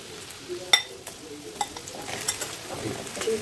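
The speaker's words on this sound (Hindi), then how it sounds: "थोडंसं आपण याला फ्राय करून घेऊ।" Coated okra sizzles softly in hot oil, a faint continuous frying hiss punctuated by a few light clinks and stirring taps.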